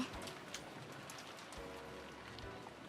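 Rain falling in the Umineko visual novel, a soft, steady patter of drops under a faint hiss, quiet throughout with a few low thumps and no voices.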